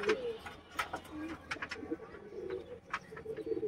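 Pigeons coo in a loft, a run of soft low throaty calls repeating close by, with faint chirps and bird rustling around them and no talk.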